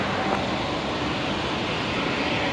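An airliner takes off from a runway at Brisbane Airport, and its broad jet roar fills the air steadily at moderate loudness, with no voices over it.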